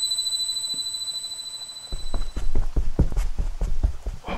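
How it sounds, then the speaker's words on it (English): Irregular footsteps in the horror video game The Jusou, a run of sharp clumping thuds starting suddenly after a quiet stretch with a steady high tone, fairly loud and close, with no talk over them. "sounds of footsteps"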